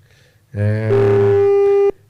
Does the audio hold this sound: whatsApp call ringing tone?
yes